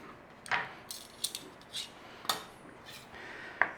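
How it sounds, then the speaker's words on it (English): A knife saws through a cooked steak on a board or plate, making a few faint, scattered scraping and clinking strokes in an otherwise quiet setting. "It's time to cut our steak."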